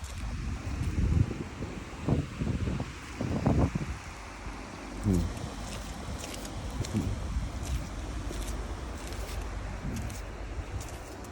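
Strong coastal wind buffets the microphone in gusts, with rustling and a steady roar underneath; no one speaks.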